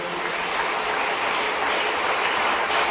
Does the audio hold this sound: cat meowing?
no